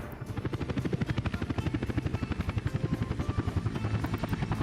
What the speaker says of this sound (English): Helicopter is doing really good things for us.